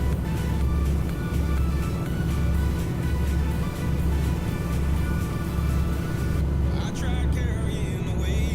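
A truck engine in the Euro Truck Simulator video game, on the Going East DLC route around Krakow, drones steadily and loudly throughout with a continuous low rumble, with faint radio sound layered above it.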